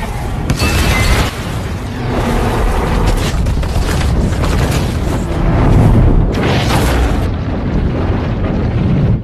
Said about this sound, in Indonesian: Gedung rumah sakit pun meledak.